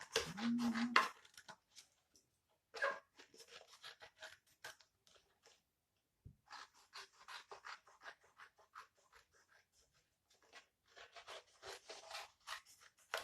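Cardboard being cut into a heart shape with scissors, quiet intermittent snipping and crunching cuts in short bursts separated by pauses, close and soft.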